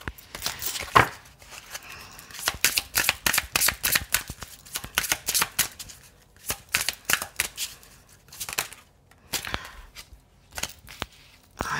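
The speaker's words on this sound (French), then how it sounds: "J'ai toutes les cartes qui volent, je suis désolée." Playing cards are shuffled and riffled in rapid bursts of crisp, close flicking and snapping, repeating in irregular clusters with short pauses, with no talking.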